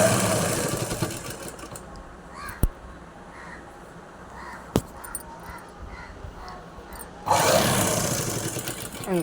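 A sewing machine stitches the shape belt of a blouse in short bursts of loud mechanical whirring, separated by a quieter stretch with faint crow caws and a couple of sharp clicks.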